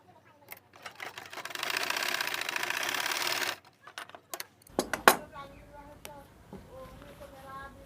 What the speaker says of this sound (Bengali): এই কানির মাথাটা যে রেখে সমান করে সোজা করে সেলাইটা করব